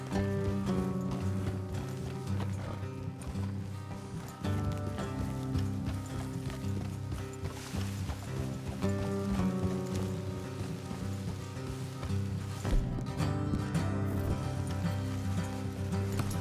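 Rhythmic clip-clop of horse hooves trots steadily along in Red Dead Redemption 2, mixed with background music and ambient game noise throughout.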